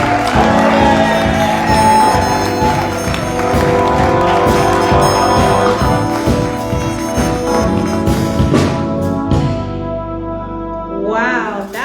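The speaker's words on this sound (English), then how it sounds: "Let's give a round of applause for Mrs. McKenya Dilworth Smith." At an awards ceremony at a Black film festival, an audience shouts and whoops in loud, sustained cheering, blended with echoing music.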